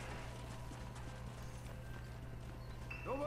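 Horse hooves clip-clop in the Red Dead Redemption video game, a steady low rhythmic trot under a constant game ambience hum, with a brief higher-pitched creak or whinny-like sound near the end.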